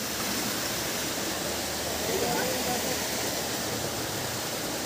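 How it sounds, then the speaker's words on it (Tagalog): A mountain stream along the trek to Apo Whang-Od in the Philippines rushes steadily, a loud, unbroken wash of flowing water that fills the whole stretch. "Water."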